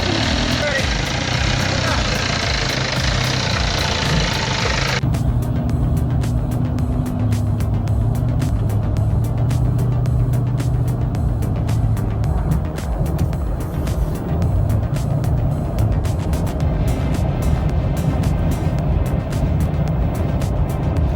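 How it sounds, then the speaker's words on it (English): A heavy log truck's engine roars steadily in a forest, a loud continuous rumble that shifts in tone after a few seconds, with faint bird chirps in the distance. "The roar of the engine echoed through the forest, mixed with the chirping of birds in the distance"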